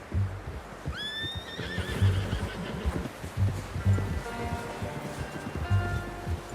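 A horse in Red Dead Redemption 2 whinnies loudly near the start, followed by scattered hoof clops and soft rustling, with faint tonal background sounds later on.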